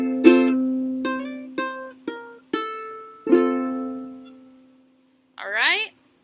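A ukulele picks a passage from a song: six distinct plucked notes ring out one after another, each decaying cleanly, followed by a brief voice sound at the end.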